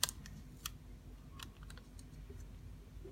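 Short crackly rips and taps of a small piece of tape being torn off and handled while sealing an RC tyre rim, close and isolated, with scattered clicks.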